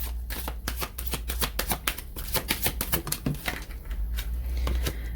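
A deck of Romance Angels oracle cards being shuffled, with a steady run of crisp, rapid riffling flutters close up and no talking.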